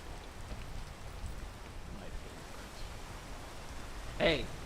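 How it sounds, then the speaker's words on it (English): Steady video-game rain hisses faintly throughout, with a short louder burst of sound near the end. "Rain."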